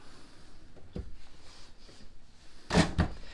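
A pull-out storage tray in a 2015 Winnebago Tour 42QD Class A diesel motorhome slides, giving a quiet rolling scrape and then a couple of sharp knocks as it stops.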